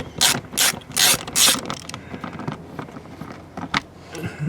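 A hand ratchet loosening 10mm screws on a BMW X7 M60i; several quick, close bursts of clicking pawl ratchet strokes up front, then lighter scattered clicks and handling taps, with no talk.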